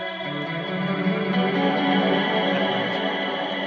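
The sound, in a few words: overdriven electric guitar with reverb and delay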